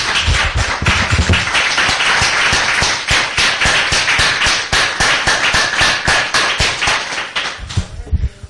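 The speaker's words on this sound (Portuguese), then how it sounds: "salva de palmas para o nosso Deus" A church congregation claps in praise: loud, crisp, closely packed handclaps from many people, nearly rhythmic, running strongly before breaking off abruptly, with a brief voice at the edges.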